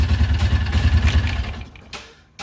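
Polaris Ranger 800 Crew engine idling with a random misfire from a faulty PTO-side injector, a loud, uneven, pulsing low chug that cuts out, with a brief sputter near the end.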